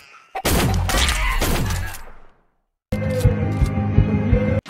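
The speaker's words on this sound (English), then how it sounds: "This guy's about to get shot at." Rapid gunfire from the online egg-themed shooter Shell Shockers rattles out in a loud sustained burst, cuts to a brief silence, then resumes as a second dense volley of shots.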